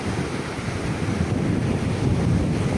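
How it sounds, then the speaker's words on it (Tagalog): Rough sea waves surge and crash continuously on the coast of Pangasinan, Philippines, with heavy wind buffeting the microphone, a loud, unbroken roar. "sobrang lakas po ng alon makakalablab"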